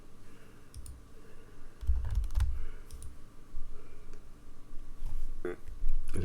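Keys clatter on a computer keyboard in scattered bursts of clicks and taps, close and moderately loud over a low background hum.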